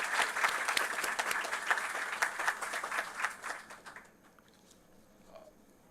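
Audience applause at a university convocation ceremony, dense clapping from a hall full of people that holds steady for about four seconds, then drops away quickly to a quiet room with a few stray claps.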